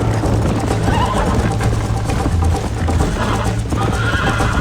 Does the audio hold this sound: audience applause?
no